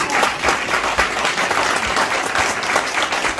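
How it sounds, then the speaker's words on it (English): Audience at a live Chicago community event claps steadily in sustained, dense applause that fills the whole stretch, with a few scattered individual claps standing out. "y'all give him another round of applause"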